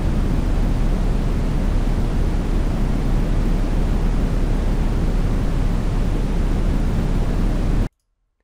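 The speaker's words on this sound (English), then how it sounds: "There's lots of ways to find or make white noise samples" Steady, full-band hiss of white noise, constant and loud, cutting off abruptly just before the end.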